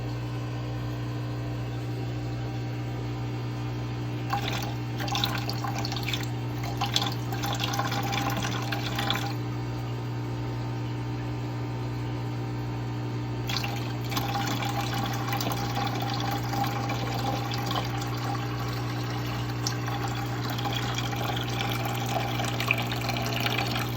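Water pours steadily into a tank under a constant pump hum, with two louder, splashier stretches of rushing water.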